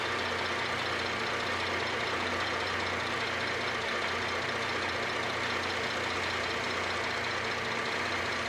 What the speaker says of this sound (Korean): 일단 엔진 소리부터 한번 들어보도록 하겠습니다.